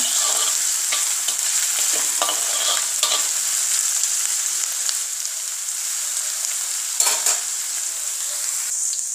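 Onions fry in a pan toward light brown with a constant bright sizzle, broken by occasional scraping stirs and a louder clatter near the end, steady and close.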